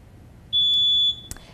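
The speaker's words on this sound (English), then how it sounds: "so get the buzzers ready" A quiz buzzer sounds once at a high-school quiz bowl match, a steady electronic tone held for about half a second, followed by a brief click.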